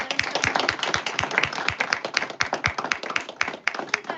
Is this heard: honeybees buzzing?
no